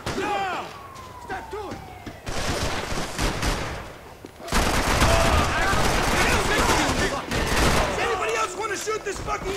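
Heavy gunfire in a rooftop shootout in the video game Max Payne 3, with dense overlapping bursts and slams that grow louder partway through, mixed with shouted voices and game sound.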